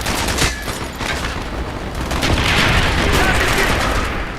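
Mortar and gunfire in a Call of Duty Black Ops battle, dense rattling shots and booming blasts swelling into a loud sustained barrage, with soldiers' shouts mixed in.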